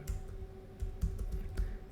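A computer keyboard is typed on in a quick burst of close, light key clicks, with an even patter of soft taps.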